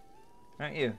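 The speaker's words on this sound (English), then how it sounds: "That was my cat." A cat lets out a short meow close by after a quiet moment, with a person speaking softly at the same time.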